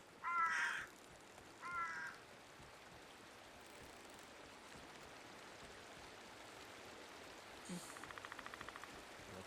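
Crows cawing in the Bigfoot video game at Ross Lake: two loud harsh caw bursts near the start, then a faint rapid series of calls later, over a soft steady ambient bed.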